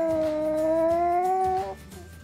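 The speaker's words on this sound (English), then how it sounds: "I'm sorry you're tired, but you know, gotta howl" A Chihuahua under a blanket gives one long, close, tonal howl that holds steady and then breaks off into a softer, fading whimper.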